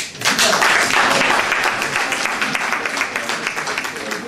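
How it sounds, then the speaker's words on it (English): Applause from a packed seminar audience bursts in after a brief pause, a dense roomful of clapping that stays strong and slowly thins toward the end. "So please clap for yourself."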